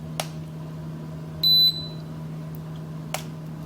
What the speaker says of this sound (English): you will see everything flash and it beeps again